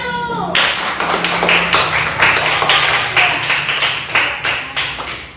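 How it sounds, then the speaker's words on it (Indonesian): A classroom group claps for a student team, brisk hand claps in quick rhythmic bursts that are close and loud, running throughout with no speech on top. "Tepuk tangan untuk kelompok 1."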